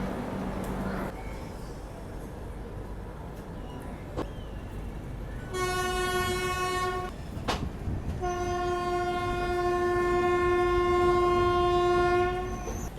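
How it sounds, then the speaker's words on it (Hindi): Pushpak Express departing a station, a low rumble of rolling stock under two long, loud tonal horn blasts, with faint background voices. "तो बहुत ही खूबसूरत डिपार्चर हुआ है पुष्पक एक्सप्रेस का, और जल्द ही ट्रेन अपनी पूरी रफ्तार में चलने को तैयार है।"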